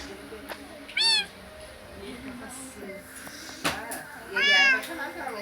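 A kitten meows twice in high, wavering cries, one short and one longer, with a voice and household background noise between them.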